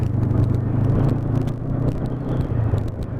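A 2020 Honda CB500F motorcycle engine runs steadily and loud nearby, a low rumbling drone with small dips in pitch as it upshifts without the clutch, no voices over it.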